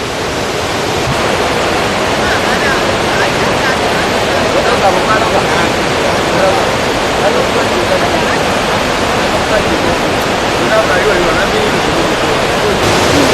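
A wide waterfall between two closely set hills at Tambi on the Mambila Plateau, heard as a steady, dense roar of falling water that stays loud and unbroken throughout, with no voices over it.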